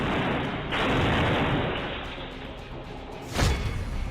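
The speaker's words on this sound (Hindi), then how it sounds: "3 सेकंड में बदमाशों ने 3 बम फोड़े" Continuous loud blasting roar of crude bombs set off in Prayagraj, three within three seconds, with a burst at the start and another sharp boom near the end, rumbling close by.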